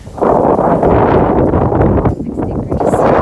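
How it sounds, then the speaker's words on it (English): Outdoors on a cold, windy trail walk, heavy wind buffets the microphone in a loud, continuous rumble that dips briefly and surges back. "Oh, it's windy."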